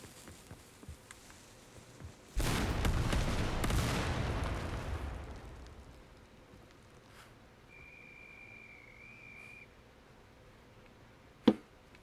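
A dynamite explosion in the video game Indiana Jones and the Great Circle, one loud deep boom that rolls and fades over a few seconds, followed by quiet background and a sharp crack near the end.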